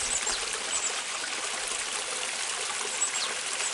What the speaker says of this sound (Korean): 미니 폭포입니다.